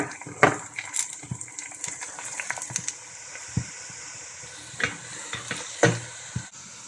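Chopped onion, butter, cinnamon, cardamom and bay leaves fry in oil with a quiet, steady sizzle, broken by several sharp clinks and scrapes of a spoon stirring in the pot.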